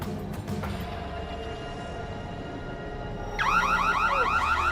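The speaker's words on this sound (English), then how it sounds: "What's with all the alarms?" A car alarm kicks in partway through, a loud warbling electronic siren cycling rapidly up and down over a background hum, close and sustained once it starts.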